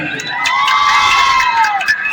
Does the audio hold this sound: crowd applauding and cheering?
yes